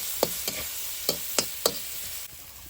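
Ginger-garlic paste fries gently in a pan, a low sizzle broken by five sharp spatula taps and scrapes at uneven intervals, close by.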